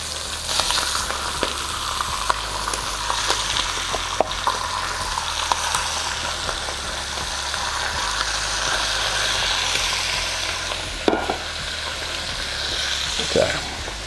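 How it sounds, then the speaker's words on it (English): Chicken thighs sizzling and crackling as they fry in hot oil, a steady close hiss with scattered pops and a few handling clatters, no talking. "You can hear them already starting to sizzle."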